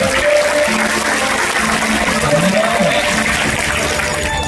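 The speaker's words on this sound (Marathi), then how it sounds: "टाळ्या जोरात वाजवा" Dense, steady applause from a temple gathering at a devotional katha event in Dharangaon, a loud continuous wash of clapping with no talk over it.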